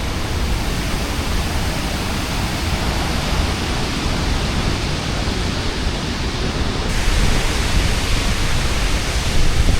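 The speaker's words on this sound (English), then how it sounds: "It's the highest waterfall in Northern Africa." A 110-metre waterfall near Marrakesh, the highest in Northern Africa and swollen with rain-stirred water, gives a constant, loud rushing roar that swells slightly toward the end.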